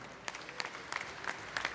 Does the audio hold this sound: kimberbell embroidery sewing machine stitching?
no